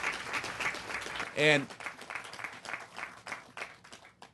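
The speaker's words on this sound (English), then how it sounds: "And we can clap." Audience applause at a university Integrated Sciences Complex topping off ceremony, a scattered burst of clapping rising under a speaker's amplified voice, with talk continuing over it.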